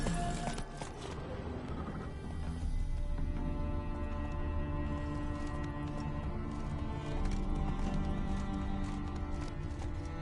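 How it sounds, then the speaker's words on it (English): Galloping horse hooves clip-clopping in The Witcher 3, a steady rapid rhythm of hoofbeats running continuously and fairly loud over a dense layer of game music and ambience, with no talk. "Whoa there, Roach"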